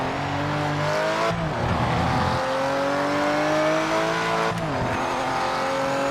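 A Porsche race car in the racing game Project Motor Racing roars close and loud, its engine pitch climbing through the gears with sharp shift drops, tires squealing under a continuous engine note.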